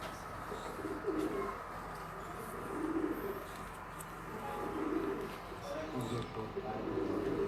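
Pigeons cooing in a rhythmic, repeating pattern, fairly close and steady, with a crowded ambient background around them.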